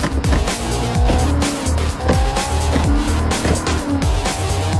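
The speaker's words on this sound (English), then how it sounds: "During the obligatory car racing scene, each driver will upshift a million times" Race cars in a movie street-racing scene, engines revving hard and repeatedly upshifting, with rising pitch sweeps cut by quick gear changes over loud sustained engine roar and tire noise.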